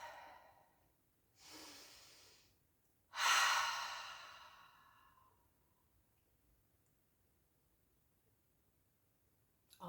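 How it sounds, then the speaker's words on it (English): One person's slow, deep breathing, close and quiet: a soft inhale, then a longer, louder exhale that trails off into near silence, with a faint click at the very end. "take a deep breath."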